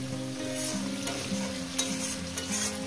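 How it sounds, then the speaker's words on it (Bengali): Potatoes fry in a pan with a continuous close, dense sizzle over a low steady hum, and a few sharper crackles and stirring taps cut through it. "3-4 মিনিট ধরে আলুটাকে ভেজে নেব।"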